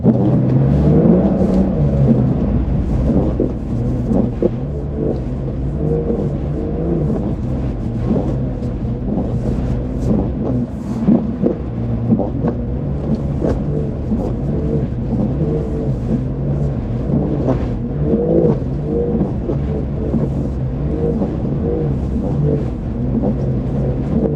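A 2024 Porsche 911 Dakar driving in rally mode gives a steady, loud engine drone and rumble throughout, with small fluctuations in revs and no talking.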